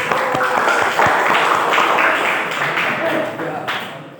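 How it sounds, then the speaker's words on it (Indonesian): Students in a classroom applaud their classmates in group one: continuous, dense clapping from many hands, mixed with chatter and voices in the room. "silakan beri tepuk tangan untuk kelompok satu."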